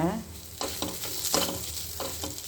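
Ginger curry simmering on a low flame, with a steady soft sizzle and bubbling broken by a few spoon stirs against the pan, close and moderately loud with no talk.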